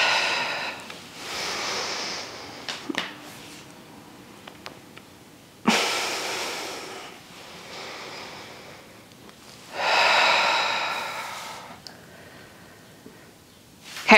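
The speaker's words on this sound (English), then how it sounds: "Breathing in through the nose," Deep breaths during a Pilates reformer stretch, drawn in through the nose and released through the mouth, several slow airy swells spaced a few seconds apart, near and fairly soft, no speech.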